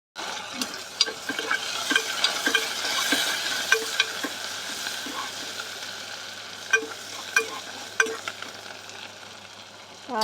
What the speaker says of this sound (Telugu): ఇప్పుడు తాలింపు పెట్టేస్తాను